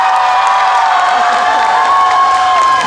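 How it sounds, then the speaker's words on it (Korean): A concert crowd at an outdoor festival stage claps and cheers loudly, a dense continuous roar of applause with whoops throughout. "큰 박수"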